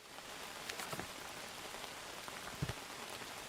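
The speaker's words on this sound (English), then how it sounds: "It's raining." Steady rain falling in the video game Outbound, a dense even hiss of drops on a surface with a few louder patters, heard alone without talk.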